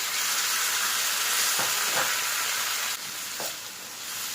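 Onions and tomatoes sauté loudly in a pan for a liver dry roast, giving a dense continuous hiss of sizzling oil with a few soft spatula scrapes. The hiss drops slightly near the end.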